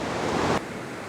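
Steady roar of a waterfall in the UK in winter, broadband and continuous, with a slight drop in level partway through.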